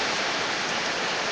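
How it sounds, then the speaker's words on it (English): Heavy rain falls outside a room as a steady, dense broadband hiss that fills the moment evenly and alone, with no voices over it. "There is a quite heavy rain outside."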